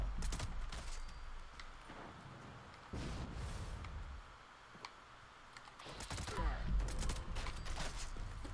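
An assault rifle with a quad faster fire rate fires rapid bursts at super mutants in a game, loud crackling volleys in several separate strings with short pauses between them. Faint game sounds sit underneath.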